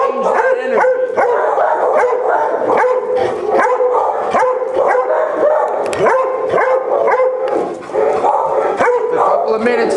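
A pack of dogs plays together, barking, yipping and whimpering in overlapping bursts at close range, with a continuous, busy, loud chorus throughout.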